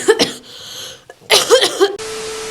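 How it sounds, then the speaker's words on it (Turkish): A few harsh, close coughs in quick bursts, followed by a pause and another cluster of rough coughing. "öksürmekten konuşamıyorum"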